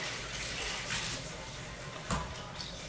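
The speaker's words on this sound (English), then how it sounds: "and soak it underneath cold water" Cold tap water runs steadily over a halved onion in a sink, a continuous close splashing hiss with a brief louder gush near the end.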